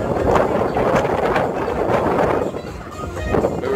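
Strong wind gusts buffet the microphone continuously on an outdoor rooftop bar in Pattaya, Thailand, a loud rumbling roar that swells and eases slightly throughout.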